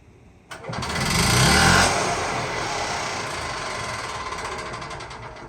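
Ez-Go golf cart engine with the choke off and the throttle floored: it fires abruptly, surges to a loud, rough, buzzing rev, then holds a steady running roar close by.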